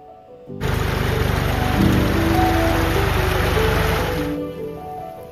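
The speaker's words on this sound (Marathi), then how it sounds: "लावणी करायला पावसाने पण हजेरी लावली आहे" Monsoon rain starts abruptly over Konkan rice fields readied for transplanting, a dense steady hiss that holds for several seconds and then eases off.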